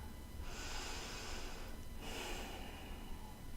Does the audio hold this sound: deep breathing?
yes